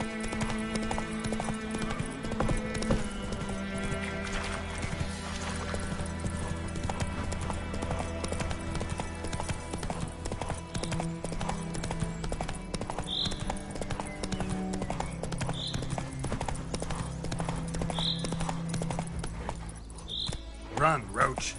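Hooves of Roach, Geralt's horse in The Witcher 3: Wild Hunt on PS5, gallop in a steady rapid clip-clop over a constant bed of music and ambience, with a few sharp higher knocks near the end and voices speaking at times.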